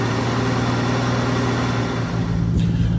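A 1968 Ford Mustang V8 runs steadily on its restored carburetor outdoors, a close, continuous low idle rumble with a brief hiss near the end.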